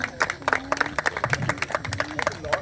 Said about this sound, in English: give a big round of applause for all the sponsors first